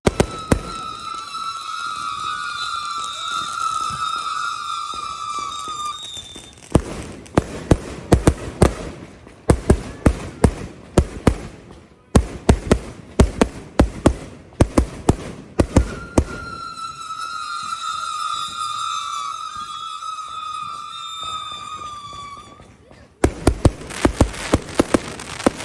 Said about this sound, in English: today I'm going to show you a video of my July 4th firework.